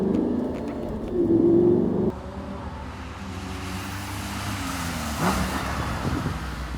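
A Lamborghini Gallardo accelerates on a race track, its engine note rising and falling in a steady, moderately loud roar with no talking.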